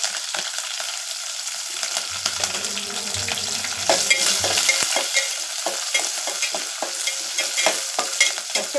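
Green chilies with curry leaves sautéing in a pan, a close crackling sizzle with quick spatula scrapes and taps growing busier toward the end.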